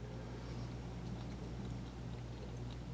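Flushing solution squirted from a syringe to rinse out the spit pad during end-of-day maintenance on an M2 X Series machine, a steady close hissing pour over a low constant hum.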